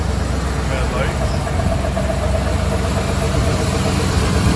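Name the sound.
1979 Dodge Lil Red Express engine running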